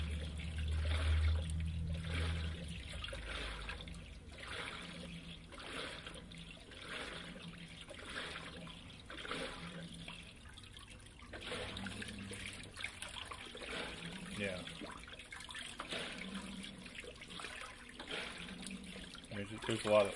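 A Speed Queen TR7003WN top-load washing machine agitates water on a heavy duty cycle, with rhythmic sloshing surges under someone talking throughout.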